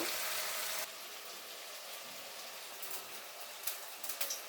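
Spices for potato curry sizzle and fry in a hot pan with oil, a dense continuous hiss that drops slightly in intensity after the first second, with small pops and crackles toward the end.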